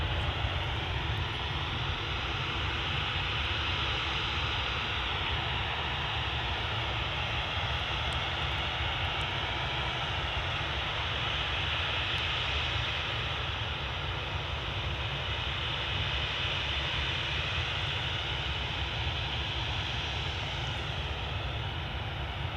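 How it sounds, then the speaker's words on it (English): A Boeing 737-800 jet airliner at Manchester Airport produces a steady, broad engine roar with a hissing upper layer, sustained and fairly distant, with no speech over it. "It's also off to Geneva, Boeing 737-800,"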